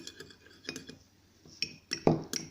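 A spoon works coloring into a homemade bath bomb mixture, giving light scrapes and a few distinct clinks against the bowl, with one louder knock near the end. The sounds are close and fairly soft, and no one talks.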